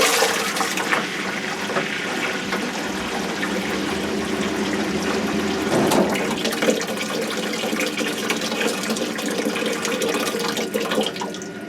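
A Rinnai tankless water heater runs with its valve opened, giving a steady rushing airflow and water noise, fairly loud and continuous, with a brief swell in the middle and no voices.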